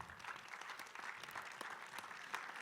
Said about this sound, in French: On peut l'applaudir, hein, je crois.